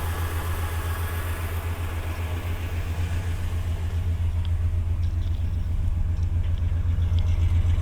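A 1966 Pontiac Catalina V8 idles steadily, heard from behind the car, a deep low rumble with a smooth even pulse that grows slightly louder over the stretch, with no talking.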